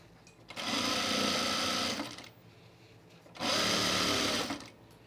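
A sewing machine stitches through the thick waistband of men's chino pants in two fast, steady runs of about one and a half seconds each, separated by a short pause, loud and close.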